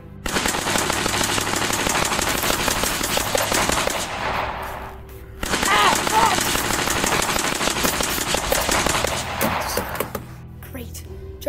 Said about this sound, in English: Jarvis, activate security features. First one, minigun.